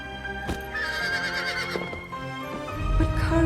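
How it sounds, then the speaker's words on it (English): A horse in The Legend of Zelda: Breath of the Wild neighs over a sustained musical backdrop, the whinny moderately loud amid a dense, layered game soundscape with a few sharp thuds. "But somebody did come back. Your horse."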